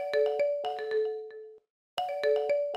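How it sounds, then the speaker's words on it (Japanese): A smartphone rings with an incoming call, a bright repeating melodic ringtone pattern of quick tones that plays twice with a short silent gap between, clear and close with no voices. "スマホに着信があった。"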